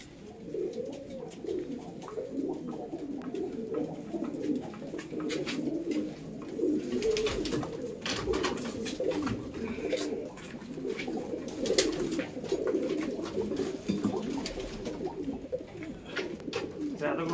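Kalanka breeding pigeons coo in soft, repeated throaty rolls close by, several birds overlapping in a steady murmur with occasional louder bursts of wing or cage noise.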